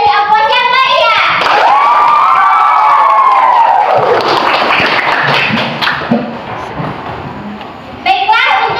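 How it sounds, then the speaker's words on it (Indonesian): Crowd of students cheering and shouting for a student council (OSIS) election candidate after a vision speech at a school, a loud sustained roar of voices and whoops with scattered clapping, fading toward the end. "Mari kita beri aplaus yang meriah"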